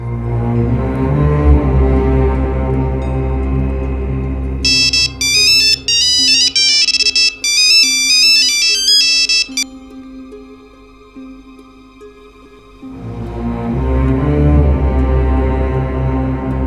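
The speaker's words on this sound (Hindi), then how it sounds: "मैंने इतनी मर्तबा फ़ोन किया, तुमने फ़ोन रिसीव नहीं किया।" A telephone ringtone plays loudly on its own as an unanswered call rings out, a bright repeating electronic melody in short bursts over a held musical background in a drama scene, with no one picking up.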